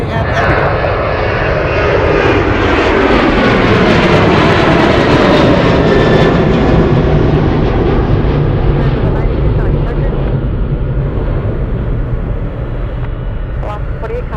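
A Boeing 737-900 jet airliner departs Anchorage, its engine roar loud and close, swelling and then slowly fading as it moves away, with voices talking over it.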